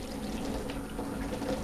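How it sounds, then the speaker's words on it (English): Hot water is poured into tin or steel containers, one plain silver and one painted, making a quiet, continuous splashing flow close by. "We already have the hot water. Okay, so I'm going to fill these guys up."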